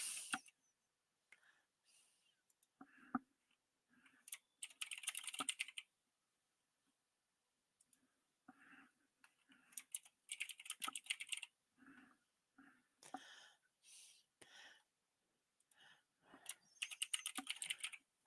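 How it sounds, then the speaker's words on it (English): Quiet, close typing on a computer keyboard comes in bursts of rapid clicks separated by pauses, with faint murmurs between. "But I am going to type it up because I ran out of time."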